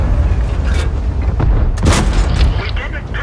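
An artillery shell explodes in World of Tanks, a loud deep boom swelling midway over constant heavy low rumble from the battle.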